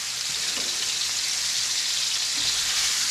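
Deer neck meat sears in hot bacon grease, giving a steady, close, loud hiss of frying with faint crackles. Nobody speaks.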